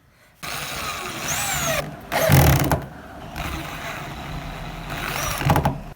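A power tool drives screws during a sofa repair, with a few short whirring bursts and pauses between them, close and moderately loud.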